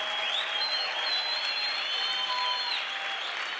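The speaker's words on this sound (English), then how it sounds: "Can you clap for our Master Jesus Christ?" A church congregation clapping during a live service, a continuous, even wash of applause at moderate distance, with tonal singing or voices threading faintly through it.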